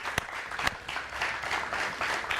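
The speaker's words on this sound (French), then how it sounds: "je pense qu'il mérite encore plus d'acclamations ce matin" Applause from a studio audience on a morning talk show welcoming an elderly fashion designer, moderate clapping with a couple of sharper claps near the start, fairly distant and steady, no cheering evident.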